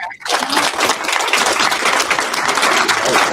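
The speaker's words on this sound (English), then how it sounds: "So if I can just get one round of applause for" Dense, steady applause from an event audience, a thick wash of many clapping hands that swells in quickly and holds loud and unbroken throughout.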